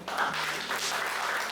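An audience applauds to welcome Thierry Fabiani at a presentation in Senegal, giving a dense, steady clapping wash that fills the short stretch.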